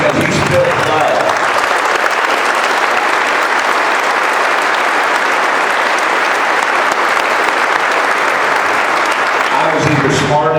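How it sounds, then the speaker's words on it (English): A political Tea Party rally audience in Tucson gives loud, sustained applause, a dense wash of clapping that runs unbroken for about ten seconds before tapering off at the very end. "he definitely deserves a round of applause because he spilled blood."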